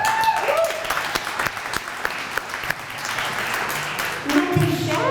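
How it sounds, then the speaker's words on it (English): Audience applause at the Brunswick Downtown Association annual meeting, dense clapping from a room of people held steady for about five seconds, with brief tonal sounds near the start and end. "Nothing shabby when you get applause"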